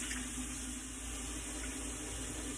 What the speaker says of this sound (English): We're just going to add some water.